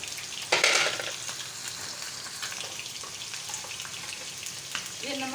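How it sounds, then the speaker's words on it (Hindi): Chicken karahi cooks on high heat in hot oil, giving a steady sizzle and frying crackle with a brief louder burst near the start and faint stirring sounds, moderately close. "गरम ऑयल में जितना भी ये तेज़ आंच पे पकेगा"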